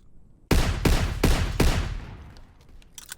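Walther toggle-action gun in Call of Duty firing a rapid burst of four loud, close shots, followed by a fading echoing tail with faint clicks.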